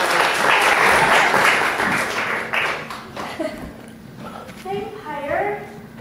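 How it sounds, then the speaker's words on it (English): Audience applause for a performance on a variety show, a broad burst of clapping that fades over several seconds while voices start talking on top of it. "Big round of applause to get this one."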